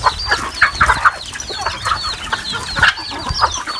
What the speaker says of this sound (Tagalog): Ganda rin maraming alagang manok.